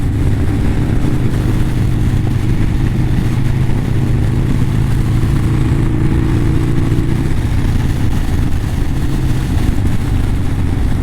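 A motorcycle ridden hard along a country road in Derbyshire near Hartington, its engine a loud, continuous close-up drone that shifts in tone partway through.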